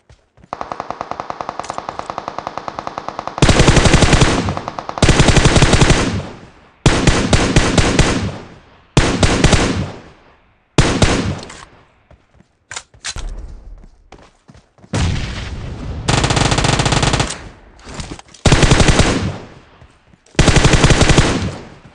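Repeated long bursts of M762 assault rifle automatic fire in PUBG Mobile, loud and close, with short pauses between sprays and a few quieter single shots early on.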